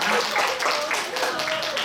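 An audience claps at the close of a school chapel talk at a foreign language high school, a dense, steady round of applause from many hands.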